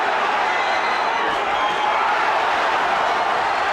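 Boxing arena crowd roaring steadily as Tommy Morrison presses Ray Mercer, a dense, loud wash of cheering and shouting with no break for the whole stretch.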